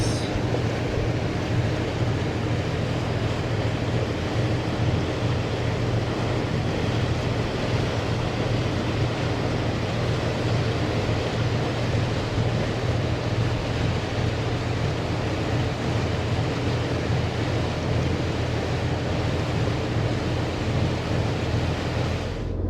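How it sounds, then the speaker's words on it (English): Steady, loud wind and rain noise out on a high, flooded river, a continuous broadband roar with a low rumble underneath that stays constant from start to finish. "In the wind, in the rain."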